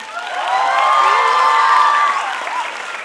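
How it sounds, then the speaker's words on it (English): A school crowd bursts into loud clapping mixed with cheers, whoops and excited children's shouts, building to a peak mid-way and then gradually tapering. "A round of applause for our lovely, lovely School Runners Academy."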